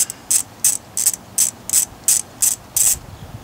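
A hand ratchet clicks in nine quick, even bursts as it loosens valve cover bolts on a Saturn SL2 DOHC engine, each burst sharp and close with short pauses between.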